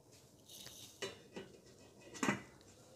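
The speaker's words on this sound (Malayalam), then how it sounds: "ഓക്കെ അടച്ച് വെച്ച് വേവിക്കാം" A lid goes onto a pot of chicken for covered cooking during fried chicken preparation, giving a few light metallic clinks and clatters spaced over a couple of seconds, near and fairly quiet with no speech.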